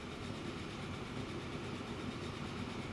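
A train runs steadily in the video game Train Fever, a constant dense rumble with faint clattering, even in level throughout with no talk.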